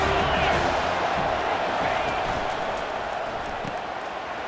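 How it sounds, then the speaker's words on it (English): Football stadium crowd at a Texas versus USC college game roaring and cheering, a dense, loud continuous wall of noise that holds steady throughout, with no break. "This crowd knows when to bring it."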